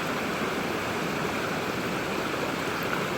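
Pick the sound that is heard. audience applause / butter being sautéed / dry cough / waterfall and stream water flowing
waterfall and stream water flowing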